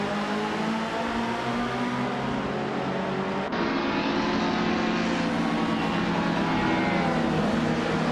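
Steady, dense engine drone of a 1979 Puma GTE race car in a racing video game, continuous and fairly loud, with a slight shift in pitch partway through as the pack runs on.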